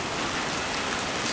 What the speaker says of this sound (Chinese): 今天我们那边又是下了一天的暴雨